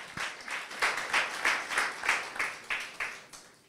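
A church congregation clapping during a sermon: a moderately quiet, rhythmic run of about ten evenly spaced claps in unison, heard alone without talk.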